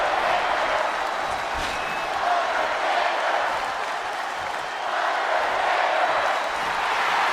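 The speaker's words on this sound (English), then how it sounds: "The crowd is fired up." A wrestling arena crowd in the WWE 2K25 video game roars and applauds in a continuous, dense wash of noise. The sound swells and dips gently and stays at a fairly steady level from start to finish.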